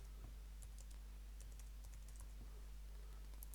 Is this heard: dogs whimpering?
no